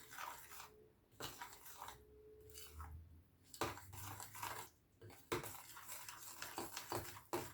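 A utensil mixing potato fritter batter with baking powder in a bowl, with repeated scraping and clinking strokes against the bowl in an irregular rhythm, close and quiet, with no talking.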